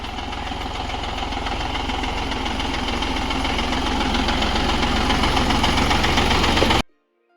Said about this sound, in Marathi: मॅडमनी लय पुढंपर्यंत ट्रॅक्टर आणलंय एकच गिअर दिलाय टाकून लो गिअर वरती ठेवलाय